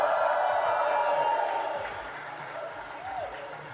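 A live audience at a podcast taping cheers and claps, a loud wash of crowd noise that gradually fades while voices speak over it.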